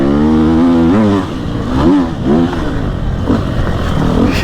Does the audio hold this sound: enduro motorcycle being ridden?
yes